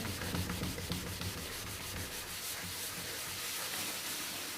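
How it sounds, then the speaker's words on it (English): Cloth buffing a wooden Welsh dresser in circular strokes, a soft rhythmic rubbing swish repeating steadily and close, quiet with no voices. "So keep buffing, lovely circular movements until you get a nice shine on there."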